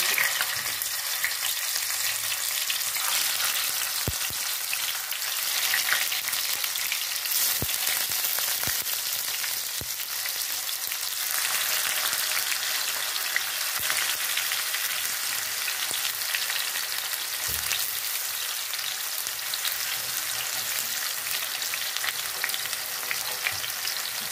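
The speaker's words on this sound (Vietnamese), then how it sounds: "dầu nó đã nóng mình cho tàu hủ vào" Tofu fries in hot oil in a pan for a Vietnamese coconut-braised dish, a loud, steady sizzle with occasional stirring clatter, heard alone without talk.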